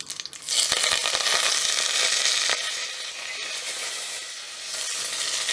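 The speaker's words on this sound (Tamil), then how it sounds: "கொஞ்சம் கடுகு பொரியட்டும்" Mustard seeds splutter and crackle in hot oil for pepper mutton gravy, a loud, dense popping sizzle close by that eases slightly toward the end.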